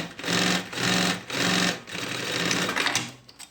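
A sewing machine stitches a lunch bag panel in several close, loud bursts of rapid mechanical needle chatter, separated by brief pauses, with no talking.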